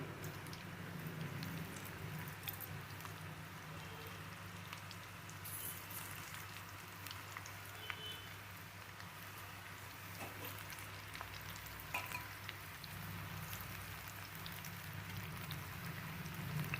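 Cauliflower pakoda coated in batter frying in hot oil, giving a steady soft crackling sizzle that continues evenly throughout and stays fairly faint.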